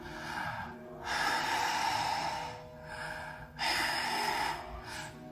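A voice imitates an old woman's heavy breathing: slow, deep, rasping inhales and exhales repeated in about two cycles, close and alone.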